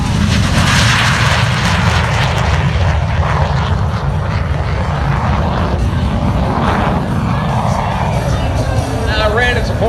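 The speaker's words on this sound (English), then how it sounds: "He's got the afterburner light. That's that flame gun," A MiG jet fighter roars past at an air show with its afterburner lit, a loud sustained blast of engine noise with a crowd faintly audible beneath.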